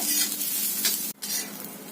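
Roasted coconut masala with coriander is sautéed and stirred in a pan, producing a close, steady sizzling hiss with scraping stir sounds and one brief pause.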